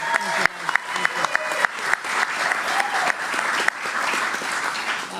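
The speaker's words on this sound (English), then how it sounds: "Let's give him a round of applause as well." Crowd at an outdoor Long Island park announcement about the PGA Championships applauding steadily for several seconds, with a few sharper claps standing out and murmuring voices underneath.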